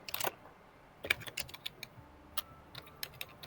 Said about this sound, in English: I just heard typing, so I wanted to give you guys a minute.